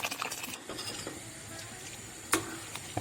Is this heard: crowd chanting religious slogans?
no